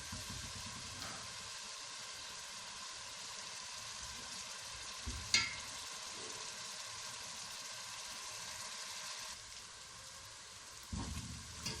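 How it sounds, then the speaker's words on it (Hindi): Steady sizzling of onion, ginger and garlic frying in a pan, a continuous hiss with occasional pops and a brief clatter of stirring. "प्याज, अदरक, लहसुन हमारा हल्का सा फ्राई हो चुका है।"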